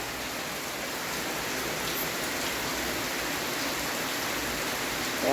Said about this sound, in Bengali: একভাবে বৃষ্টি হয়ে যাচ্ছে কোনো ছাড়ার নামই নেই